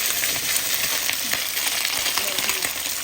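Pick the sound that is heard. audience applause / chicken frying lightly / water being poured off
chicken frying lightly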